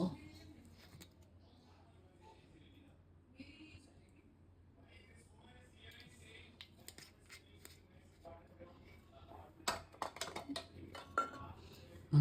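Vegetable salad tossed with olive oil and ground pepper in a bowl, giving soft scattered clinks and scrapes of utensils that grow busier toward the end, with sharper knocks near the close.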